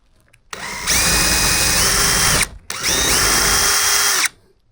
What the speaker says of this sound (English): we'll drill this out.